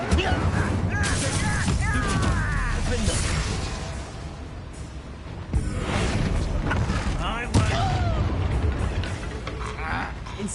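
Spell blasts and crashing impacts in a Hogwarts Legacy duel, including the Confringo fire spell, loud bursts and whooshes across the stretch while a voice shouts incantations.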